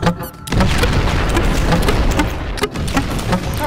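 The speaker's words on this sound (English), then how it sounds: "Explosive eggs." Explosive eggs from an egg launcher in a video game, producing loud, continuous booming blasts and crashes that pile up densely after a brief opening sound.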